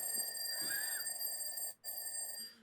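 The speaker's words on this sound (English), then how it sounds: "that's the alarm." An alarm clock rings steadily, a continuous high electronic tone that drops out for a moment near the end and then resumes.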